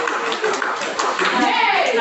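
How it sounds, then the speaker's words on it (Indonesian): A classroom of students clapping hands during a teaching session, a steady patter of claps blended with children's voices talking over it throughout. "Wah, tepuk tangan."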